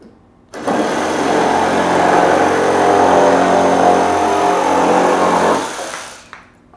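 A Metabo SSE 18 LTX BL cordless reciprocating saw makes a cut, starting abruptly into a loud, sustained buzzing whine that holds steady for about five seconds before winding down and stopping.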